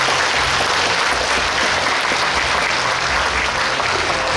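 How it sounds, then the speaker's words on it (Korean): Large crowd at a Korean former lawmaker's book launch event applauding loudly and continuously, a dense, full wash of clapping with no pause throughout. "다짐의 박수를 한번 보내주시기 바랍니다"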